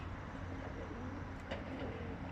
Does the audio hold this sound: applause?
no